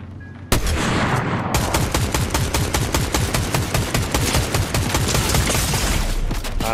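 Rapid bursts of video-game gunfire in Fortnite crack out in quick, evenly spaced shots, a sustained loud volley that continues almost without pause after a short lull at the start.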